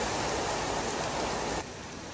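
Heavy stormy rain pours down outdoors near Edison Park in Karachi. The rain makes a dense, steady hiss close by, which softens slightly near the end of the short stretch.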